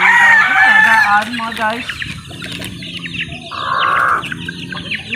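Several chickens cluck and squawk in a busy, close flurry on a farm as people chase them, talking and calling out over them.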